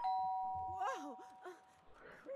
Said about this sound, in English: Somebody donged a doorbell.